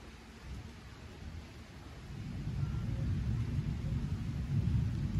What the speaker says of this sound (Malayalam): ഇടി, നല്ല ഇടിയുണ്ട്,